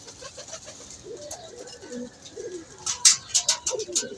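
A newly acquired male pigeon coos softly at close range, its low, throaty calls repeating under light background noise, followed by a few sharper bird chirps and a rustle of movement.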